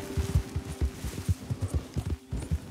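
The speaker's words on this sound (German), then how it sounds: "ach, da sind da Pferde." Horses walk in the video game Red Dead Redemption 2, their hooves making a close, rhythmic clip-clop of soft thuds in an even pattern.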